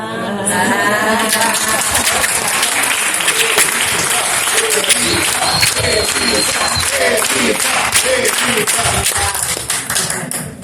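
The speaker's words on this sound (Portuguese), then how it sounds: "pedir uma salva de palmas para a professora Elisa Abrão" Applause for a professor at a dance and academia panel, dense, close clapping with sharp individual hand strikes and some thumps, continuing steadily, with voices talking underneath.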